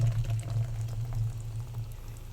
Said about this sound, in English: think I'm going to pour another ginger ale into the glass